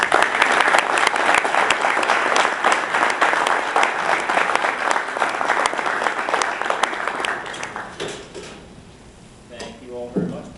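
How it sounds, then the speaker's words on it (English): An audience welcomes the chairman of an enterprise business services board with loud, sustained clapping that tapers off near the end, when a voice begins speaking close by. "if we could all give him a warm welcome round of applause"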